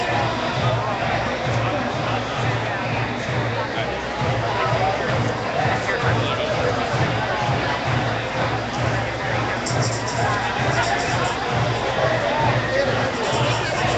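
A crowd of protesters at a No DAPL meeting in San Francisco chatters and murmurs in a continuous babble, with nearby voices talking over the steady hubbub.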